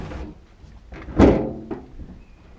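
A lightweight glass fibre car door with an aluminium insert, from a classic mini, is handled, giving a single hollow thunk amid quieter shuffling knocks.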